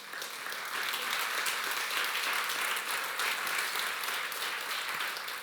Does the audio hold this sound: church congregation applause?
yes